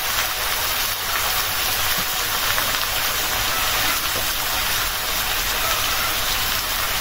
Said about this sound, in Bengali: মিষ্টি কুমড়া ভাজা বসানোটা দেখা যায়।